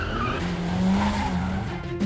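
A car drifts with a loud, sustained tire squeal over a steady engine drone, continuous and close for about two seconds.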